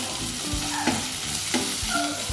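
Long-cut green chillies sautéing in a pan for mushroom gravy, a steady close sizzle with a couple of spatula scrapes and stirs.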